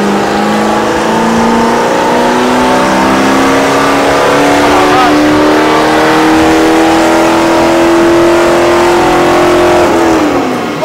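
A 1966 Barracuda's American V8 engine revs on a dyno, climbing steadily in pitch for about ten seconds, a continuous roaring drone, then drops off sharply near the end.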